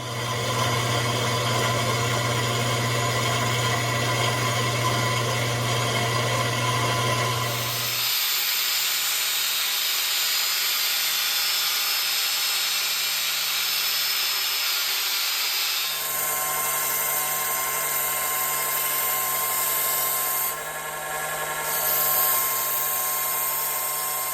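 A power tool, likely a saw, cuts strips of wood for a guitar pick, a steady loud whine that drops in pitch and changes tone twice as the blade moves through the wood, with no speech.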